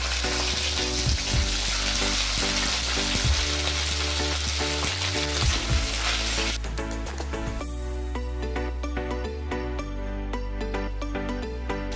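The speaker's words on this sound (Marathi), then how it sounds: "आता तेलामध्ये शिमला मिरची, वाटाणा आणि कांदा छानपैकी फ्राय करून घेऊया" Capsicum, peas and onion fry in hot oil in a steady, loud, close sizzle, with occasional stirring scrapes throughout and no voices.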